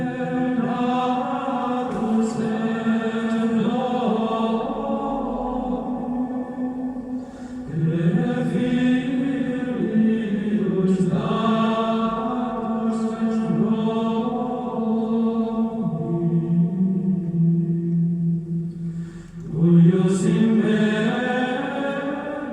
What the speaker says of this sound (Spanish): cantos de los monjes que se llaman música gregoriana